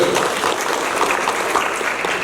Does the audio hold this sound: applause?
yes